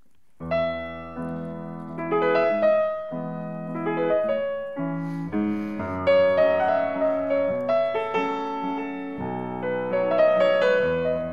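A solo piano plays Puccini's Piccolo Valzer, a light, lilting waltz tune with a steady oom-pah-pah accompaniment, clear and close, no voices.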